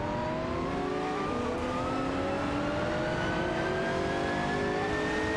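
Race car engines in an AI racing video game, the Gillet Vertigo and Spiker C8 Spider GT2 among them, drone and whine steadily with rising pitch as the cars battle for position, loud and continuous with no talk.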